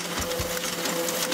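An offset printing press runs with a steady mechanical whir and a rapid, even clatter, loud and continuous, with no voices.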